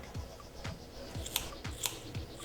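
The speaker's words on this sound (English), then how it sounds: "we're going to do this with our straight edge scissors" Straight edge scissors snip through a child's hair close up, about five crisp cuts at a steady, unhurried rhythm, with no talking.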